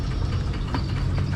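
Idling engine of a tour boat moored on the Mekong near a floating market, a close, steady low rumble with a faint knocking pulse and no voices.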